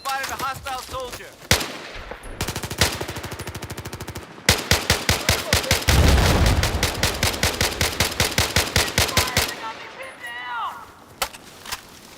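In Battlefield 4, an M1 Abrams tank's machine gun fires long, loud, rapid bursts of gunfire, with brief game voice sounds at the start and end.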